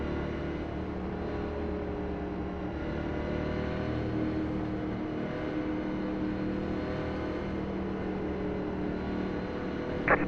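IndyCar race start in a racing video game, a pack of engines droning steadily together at a constant, moderately loud level, with a brief sharper sound at the very end.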